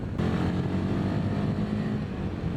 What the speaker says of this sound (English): powered by this brand new 450cc single-cylinder water-cooled engine